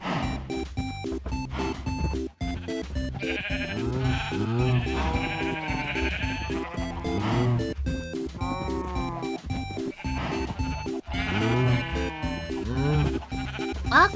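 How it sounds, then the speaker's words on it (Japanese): A dense crowd of Minecraft sheep bleats over and over alongside cows in a big procession, loud overlapping wavering cries filling the whole stretch with constant clicking game noise underneath. "牛と羊の大行列、これなんでこんなことになっちゃってんの。"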